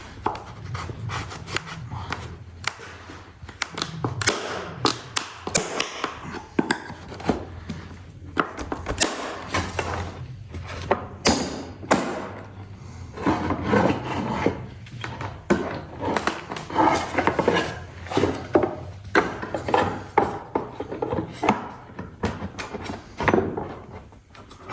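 Wooden stable door boards being pried off their brace: repeated scraping, knocking and creaking wood with sharp cracks and thuds, close and irregular throughout, with no talk.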